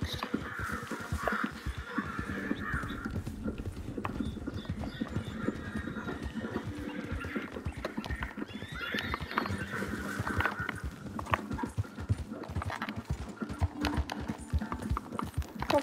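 A horse's hooves clip-clop steadily in the Red Dead Redemption 2 video game. The footfalls run continuously and close by, mixed with crows cawing and a brief whinny.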